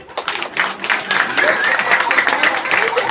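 Campers at a campsite hypnosis show break into lively applause that builds quickly and holds steady, with a few voices and cheers mixed into the clapping.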